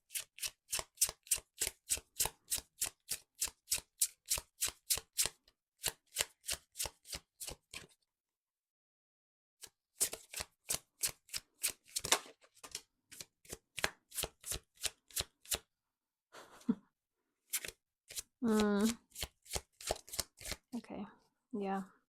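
A new tarot card deck being shuffled up close, with rapid rhythmic riffle bursts repeating in quick runs, short pauses between batches, and softer handling near the end.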